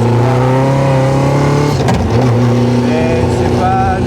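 A Caterham 485 S accelerating on a race track, its engine loud and close with a steady rising drone and a brief gear-change break midway, while a voice talks over it.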